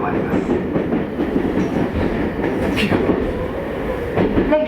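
JR Hokkaido Hakodate Liner local train between Hakodate and Shin-Hakodate-Hokuto, steady rumble of the running railcar heard from inside, with a continuous low roar and faint wheel noise throughout.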